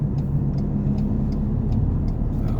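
A large vehicle overtaking in heavy traffic on a road in Thailand, a continuous close engine rumble with faint regular ticking clicks above it, no speech.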